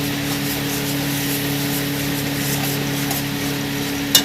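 Pangas fish curry with Kashmiri chili powder being stirred in a frying pan, a steady, even sizzling scrape that holds the whole time with one small knock near the end. No one speaks.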